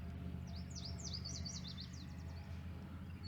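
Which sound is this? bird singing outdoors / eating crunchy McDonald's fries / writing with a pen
bird singing outdoors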